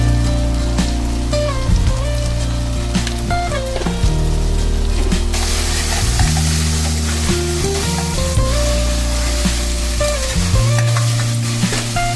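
Mutton curry with raw mango, chilli powder and salt crackling in a pan, a steady sizzle up close under loud background music.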